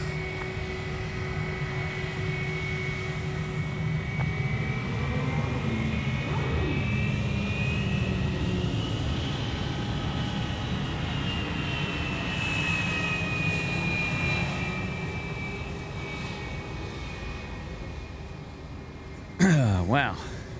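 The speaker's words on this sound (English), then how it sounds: "Now we've got FedEx coming down Alpha." A FedEx jet at Sydney Airport taxis at night with a continuous engine whine and rumble that rises and falls in pitch, heard at a distance while a person talks intermittently.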